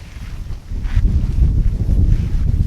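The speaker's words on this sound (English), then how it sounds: "Ooh, it's a little bit windy today." Wind gusting outdoors near an open door, a steady low rumble and buffeting on the microphone that builds slightly and holds throughout, with no talking.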